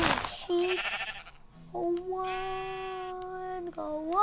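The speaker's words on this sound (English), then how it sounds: "I just want to kill that stupid sheep" Several Minecraft sheep bleat one after another, the middle bleat long and wavering, in a synthetic game-like setting with a brief noisy burst at the start.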